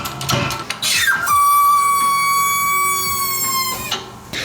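A loud, high-pitched metallic squeal from a 1967 Camaro part holds steady for a couple of seconds, preceded by shorter squeaks and scraping, then fades out.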